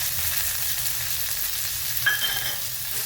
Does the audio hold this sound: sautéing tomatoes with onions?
yes